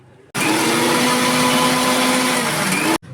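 An electric mixer grinder whirs steadily at full speed, blending mango pieces with milk in its jar, a loud continuous motor drone that starts abruptly and cuts off after a few seconds.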